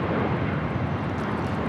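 WestJet Boeing 737-800 airliner arriving at LAX, a loud, steady jet engine roar, close and continuous with no talk.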